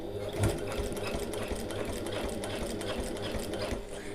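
Sewing machine stitching a getaway bag, running steadily and continuously at close range with its whirring motor, a small bump near the start and no talking.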